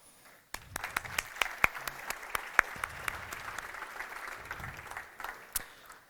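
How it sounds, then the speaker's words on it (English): Audience applause at a microservices tech talk, starting abruptly after a short quiet moment and then holding steady with sharp individual claps standing out over a dense wash of hands. "I would like we give a big round of applause for the crew who organized this event"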